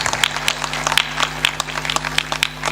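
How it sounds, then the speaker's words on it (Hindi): Audience applause at a Hindi religious discourse: a steady run of sharp, fairly close hand claps from a small group, with a steady hum underneath. "ताली बजाते।"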